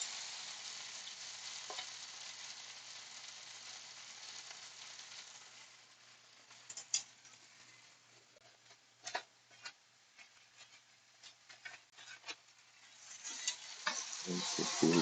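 Kale simmering in a pan gives a steady soft frying hiss, broken by scattered clicks and scrapes as it is stirred, with a louder burst of stirring near the end.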